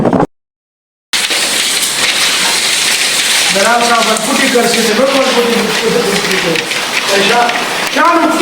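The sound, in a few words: heavy rain during a storm in Islamabad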